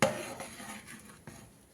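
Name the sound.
stirring spice powder into puliyogare mix in pot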